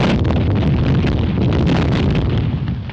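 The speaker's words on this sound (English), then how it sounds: "Somebody will have to crawl through that barrage." Continuous artillery barrage in a war scene, dense overlapping booms and bursts rolling one into another, loud and close, with no pause in the pounding before a slight fade at the end.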